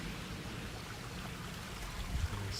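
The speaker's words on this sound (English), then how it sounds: "This is a spring water." Spring water flowing along a stream on an early morning walk in Tokyo, a faint, steady, even wash of running water with no voices.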